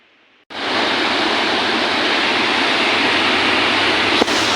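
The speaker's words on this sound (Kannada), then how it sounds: "ಹೊಳೆ ಅಂತ ತುಂಬಿ ತುಳ್ಕಾಣಕತ್ತದ ಭೀಮಾ ನದಿದು" The flooded Bhima river, brimming over its banks beneath a long bridge, rushes past. After a moment of near quiet, a loud, unbroken torrent of water starts abruptly and holds steady throughout.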